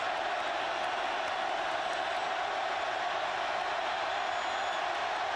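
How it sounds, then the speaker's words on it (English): Stadium crowd at an Auburn vs LSU college football game reacts to a referee's call, with a broad, sustained roar of voices and booing holding steady, a commentator's talk faintly underneath. "The crowd doesn't want to hear that,"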